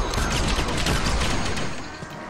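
Gunfire in Call of Duty Black Ops Zombies on the Die Rise map, a loud, dense stream of rapid shots mixed with game noise that tapers off slightly at the end.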